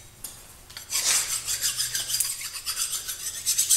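Filing burrs off a metal shim: after a brief quiet start, a rapid series of bright, gritty rasping strokes runs continuously and close up. The strokes pulse rhythmically, each about a quarter second long.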